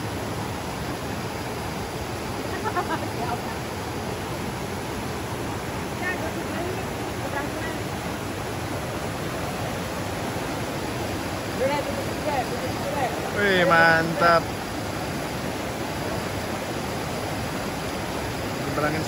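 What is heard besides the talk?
river water flowing while crossing a river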